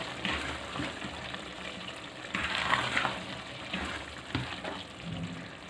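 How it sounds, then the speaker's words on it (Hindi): Mutton keema frying in oil in a pan, with a steady sizzle and hiss under occasional stirring scrapes, fairly close and moderately loud throughout. "ऑयल निकलना शुरू हो चुका है, अब इसको हम भूनते जाएंगे।"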